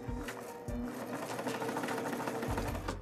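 An old sewing machine runs under its own power, a steady close mechanical whirring and rapid clatter with brief pauses in the motor.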